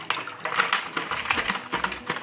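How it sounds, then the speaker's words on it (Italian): Ice-cold water with ice still in it is poured into a bowl in a kitchen, a close, bright splashing and trickling that runs on in uneven bursts for a couple of seconds. "Io ho messo dell'acqua che c'è dentro proprio ghiacciata, vedete, c'è dentro ancora il ghiaccio, ne ho già messa parecchia, ne metto ancora, quindi acqua ghiacciata."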